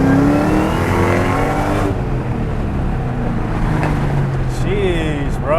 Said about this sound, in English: we're gonna give it a little wide open throttle real quick